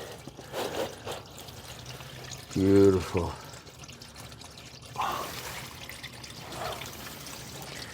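Engine oil pours out of a drained Sprinter van in a steady splattering stream that runs under the background noise. A voice speaks briefly over it.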